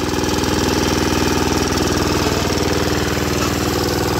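A Kirloskar 28-inch power weeder's engine runs steadily at close range, a loud, continuous rapid chug that holds an even rhythm throughout without any voices.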